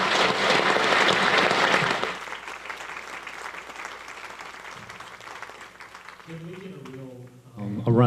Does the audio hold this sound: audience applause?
yes